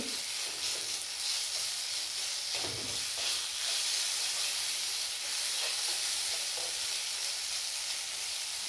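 Fish curry with spices sizzling and frying in a pan, a steady bright hiss running throughout with occasional soft stirring scrapes, close and continuous with no talking.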